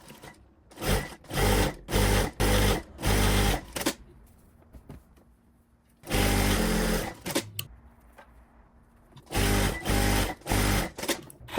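A sewing machine stitches a waistband onto baby pants in three runs of rapid rhythmic stitching, each a series of short bursts, separated by quiet pauses while the fabric is handled.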